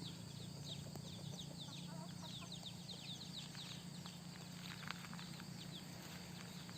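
Chickens, including a fighting-cock breed rooster kept with young hens on a farm, cluck and chirp faintly at a distance over a steady low background hum, with scattered short calls throughout.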